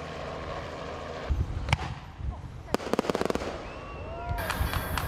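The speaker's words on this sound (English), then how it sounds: "They're over there with their paintball guns." Paintball guns fire outdoors in a rapid cluster of sharp snapping shots, with scattered single pops before and after, amid background noise and a voice speaking.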